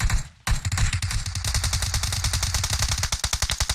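Rapid automatic gunfire in the mobile battle royale PUBG Mobile on the Sanhok map, a brief pause then dense bursts of close, loud shots rattling on for several seconds with no talk.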